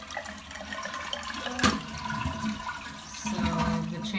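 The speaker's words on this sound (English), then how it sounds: "we're gonna flush the toilet" A toilet being flushed during a repair of a tank that won't fill, giving a rushing gurgle of water that swells and drains, with a brief clunk partway through.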